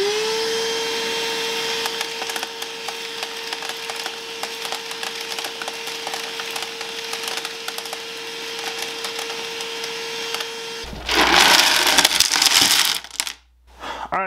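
A Bauer 20V 3.5-gallon cordless wet/dry vacuum runs as a steady motor whine and airflow roar. Near the end it sucks up small sheet metal screws in a loud, clattering rattle before a sudden cutoff.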